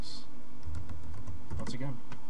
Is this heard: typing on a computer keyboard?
yes